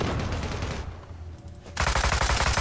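Rapid automatic gunfire rattles in the video game Zula, bursts of machine-gun fire at close range, pausing briefly and then resuming loud and dense without any talk.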